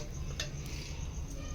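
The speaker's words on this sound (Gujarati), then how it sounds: "દાળનો વઘાર મસ્ત થઈ ગયો છે." Dal tempering being stirred in a pot over a desi chula, a soft continuous sizzle with low rumble and a few light metallic clinks of the spoon against the vessel, faint and close.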